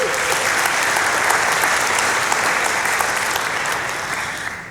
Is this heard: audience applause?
yes